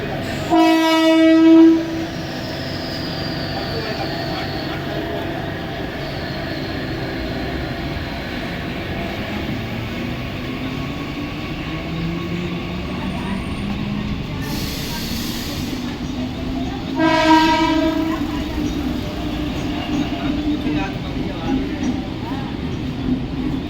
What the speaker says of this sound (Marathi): slow local for Mumbai Chhatrapati Shivaji Maharaj terminus is arriving shortly on platform number 2